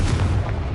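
Confringo blasting spell explosion in Hogwarts Legacy: a brief, loud, deep boom with a rumbling low body, heard alone.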